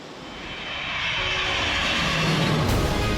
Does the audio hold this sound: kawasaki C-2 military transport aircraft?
yes